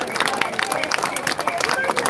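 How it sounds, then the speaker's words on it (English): A crowd at an outdoor protest in Braintree claps and cheers, a dense rattle of applause with mixed voices, short and fairly loud. "Give her a massive round of applause."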